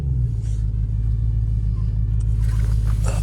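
1988 Range Rover Classic engine idling while reversing, a loud steady low rumble close by, with faint background noise and no talk.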